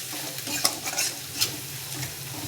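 Garlic, onion and dried chili sizzle and fry in a pan, with a steady crackling hiss throughout and a few sharp stirring scrapes standing out near the middle, close and fairly loud with no talking.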